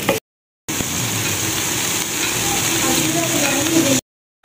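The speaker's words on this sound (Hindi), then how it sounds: "अब हम इन दोनों को अच्छे से भून लेंगे।" Ginger and garlic paste frying in oil, a loud close steady sizzle broken by brief silent gaps at the start and end.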